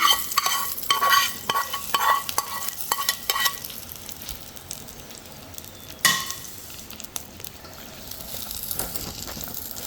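Hot oil is poured into onion pickle and stirred, giving a sharp sizzling crackle at first that fades into spoon-scraping mixing sounds with a few clinks.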